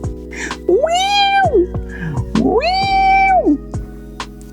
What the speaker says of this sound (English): Now she just sounds like a cat.